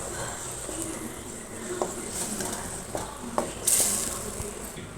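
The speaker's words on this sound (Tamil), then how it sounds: "அடுப்பு ஆன்லேயும் இல்லாமல் சிம்மில் இல்லாமல் வச்சு கிண்டிகிட்ருக்கேன்." Pasta masala is stirred in a pan over a low flame, a soft steady sizzle of oil under occasional light scrapes and taps of the spoon against the pan, close by and fairly quiet.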